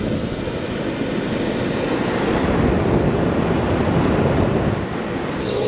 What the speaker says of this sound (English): Ah, there's my rear fan.